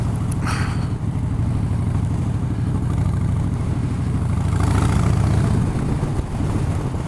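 A Harley-Davidson Street Bob with drag bars cruising down a back road, its engine a continuous loud low rumble that swells slightly midway, with steady wind noise and no talking.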